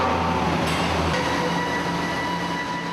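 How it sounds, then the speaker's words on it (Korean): A heavy block transporter rolls into a crowded shipyard yard at a Korean shipbuilding site, giving a steady loud mechanical rumble with a brief low drone early on, continuous and near with no talk. "트랜스포터 한 대가 연달아 도착했다"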